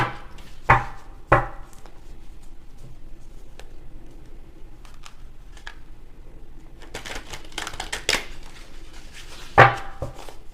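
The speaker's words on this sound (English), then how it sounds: "Let's get these three shuffles in a cut" Deck of playing cards being shuffled and cut, with sharp riffling bursts near the start and again later, separated by quieter handling and light tapping, close and clear without talk.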